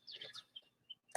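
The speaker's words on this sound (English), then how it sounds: "some of the birds chirping outside" Small birds chirp outside a sliding glass door, a few brief high tweets spaced irregularly and faint, as if heard from indoors, with no talking.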